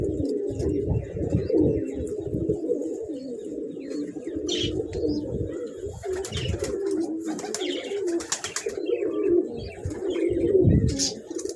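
Crested pigeons on a rooftop coo steadily in low, throaty, repeated phrases, close and fairly loud throughout, with a few faint higher chirps and some wind noise mixed in.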